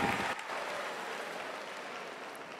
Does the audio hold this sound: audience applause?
yes